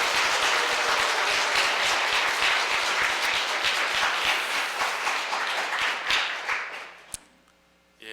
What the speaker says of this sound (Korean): 자인 공동체 이름으로 환영의 박수를 보내고 싶습니다